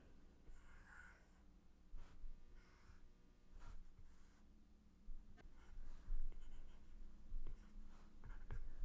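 Pen scratching across paper while a math diagram is drawn, quiet intermittent strokes and taps with soft breathing, no talking.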